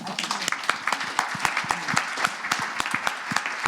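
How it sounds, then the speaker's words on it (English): Applause rises from a modest audience at a women's summit panel Q&A session, brief and somewhat sparse, with distinct individual claps audible close by. "that deserves a round of applause, I think"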